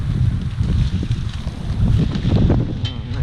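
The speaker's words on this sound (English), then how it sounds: "so it's a little too windy and such for me to go investigate" Steady, gusty wind blows outdoors in a garden or orchard among young grafted trees, a loud continuous low rumble of microphone buffeting with no talk.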